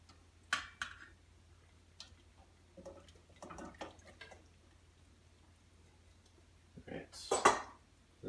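A spoon or spatula works cooked pasta into a cheese, oregano and spice mix, making sparse, quiet clinks and scrapes against the bowl, with a louder scraping flurry near the end.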